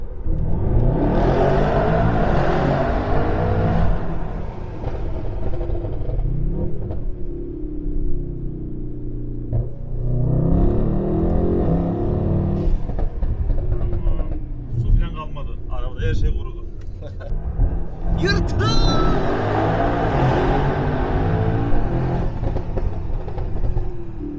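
BMW E36 driven after a wash so it air-dries, with a steady engine rumble and revving that rises and falls throughout, close and loud, while people talk over it.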